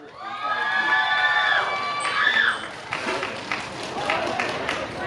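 A crowd around the show ring at a black male buffalo contest in Kalasin claps and cheers, with whoops and children shouting, after a stretch of loud voices and a whistle-like tone.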